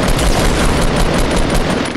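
Dense, loud gunfire from a Fortnite match crackles continuously, with overlapping rapid-fire bursts filling the whole stretch without a break.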